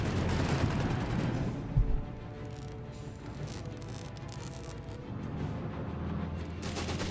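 Flak 36 88 mm anti-aircraft gun firing in a Company of Heroes 3 battle, a loud booming report near two seconds amid a steady rumble of distant gunfire and battle noise.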